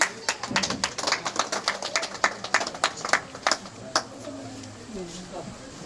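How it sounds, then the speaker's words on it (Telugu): An audience claps at a senior-division prize ceremony in Meeduthur, with a dense run of scattered hand claps over the first four seconds that then thins out, while a voice talks over it. "చప్పట్లు కొట్టాలి."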